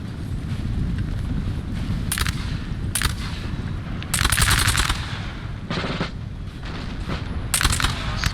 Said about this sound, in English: looks like a piece of artillery that just hit